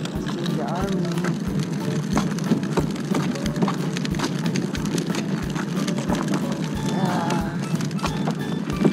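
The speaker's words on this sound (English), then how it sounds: "Oh, it's raining. Look, it's raining." Rain patters steadily on surfaces in a large London park playground, a dense crackle of close drops running the whole time, with faint voices of people nearby underneath.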